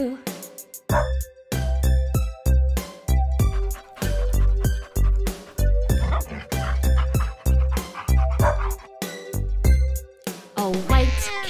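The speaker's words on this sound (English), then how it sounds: "A black dog barks real loud" A black dog barks loudly in a nursery phonics song, with repeated barks set to a bouncy musical beat and backed by steady instrumental accompaniment.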